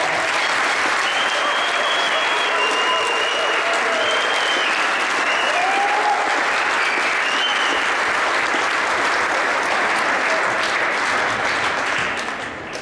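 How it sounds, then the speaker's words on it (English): A school gym crowd at a varsity basketball pregame claps in a loud, dense, continuous wash of applause, with faint whistles or shouts over it, fading slightly at the very end. "they deserve a round of applause"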